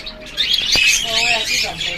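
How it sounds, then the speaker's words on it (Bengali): Cockatiels squawk loudly and harshly at close range in a bird shop selling many kinds of birds, repeated shrill calls over a brief stretch of background talk. "এখানে আপনারা যে ককাটেলগুলো দেখতে পাচ্ছেন এই যে এক জোড়া এখানে দেখুন"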